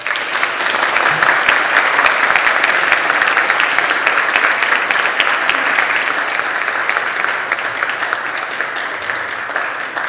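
An audience greets the band with a dense, steady round of clapping, loud and continuous for about ten seconds before slowly thinning out, with no voices over it.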